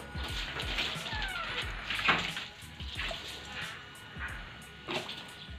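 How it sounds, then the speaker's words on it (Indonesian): Water splashes and rinses over a Kawasaki Ninja motorcycle being washed before sale, with irregular spraying and dripping, scattered knocks and faint background voices. "Lanjut kita siram."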